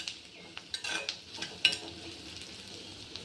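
Curry fried in a pan until brown, stirred with a utensil: a soft steady sizzle runs under irregular scraping strokes and light metallic clinks, close and fairly quiet.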